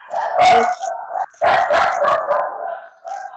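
Several dogs bark in loud, overlapping bursts that fill most of the stretch, with a short pause in the middle and a final bark at the end.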